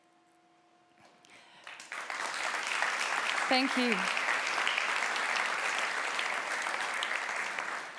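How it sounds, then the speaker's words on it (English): An audience breaks into applause after a talk, rising from quiet to a full, sustained wash of clapping that holds steady, with a brief spoken thanks over it early on. "But this applause is really for those champions."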